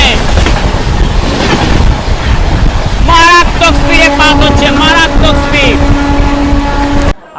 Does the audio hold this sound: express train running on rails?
yes